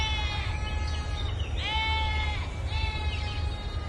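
Sheep bleat in a farm setting, a few wavering calls rising over a steady low rumble, moderately near and fairly loud.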